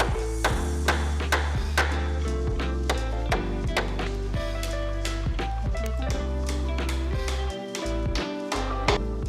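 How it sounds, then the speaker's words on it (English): A hammer drives wooden wedges into a through-wedged mortise and tenon joint on a plant shelf, striking in a steady run of sharp, ringing blows about every half second, loud and close, with no talking. "all that's left to do is drive the wedges"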